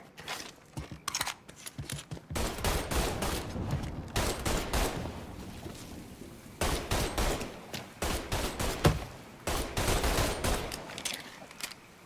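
Gunfire in the Mafia 3 video game: rapid bursts of shots crackle loud and close, with clusters of sharp reports and short pauses between volleys.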